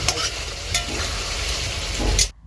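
Meat sautéed in a pan with tomato sizzles loudly and steadily, broken by scraping stirs of a spatula before the sound cuts off abruptly.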